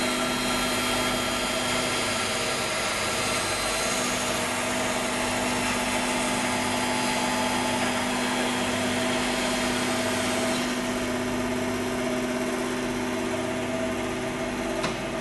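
A band saw runs steadily while cutting through timber fed with a push stick, giving a continuous loud whine and hum with no pauses and no talking.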